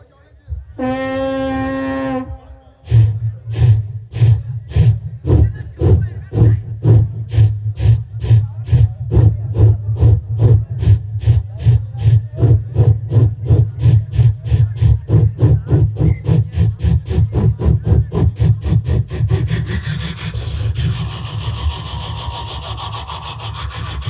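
A person imitates a train: a brief whistle, then rapid rhythmic chuffing that gradually slows and fades into hissing, like an engine pulling in.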